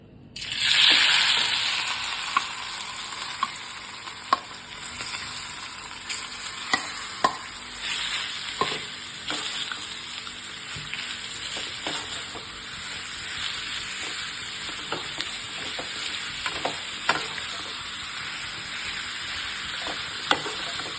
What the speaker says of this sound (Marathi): आता मी कढईत आहे ना 1 चमचा तेल घेतलेलं आहे। आता हे परतून घेऊया चांगलं।